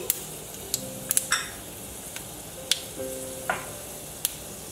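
Whole spices, a small cinnamon piece, cloves and cardamom pods with cumin, sizzle in hot oil for a Bengali festival pulao, with faint crackles, a few sharp pops and brief spatters standing out over a low steady fry.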